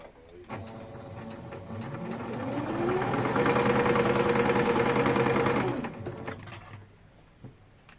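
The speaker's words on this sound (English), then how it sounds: "Now, we need to take and sew each side. We're going to sew this side." A sewing machine stitches down one side of a piece of fabric, starting slowly, building to a fast steady whir, then slowing and stopping, heard up close with no talk.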